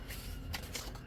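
A piece of cardstock is folded in half with a short, dry papery rustle and a couple of crisp creasing swishes, close and quiet.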